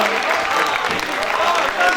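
Steady, loud applause from the audience at a mushaira poetry recital in Bahawalpur, continuous clapping with a few voices mixed in throughout.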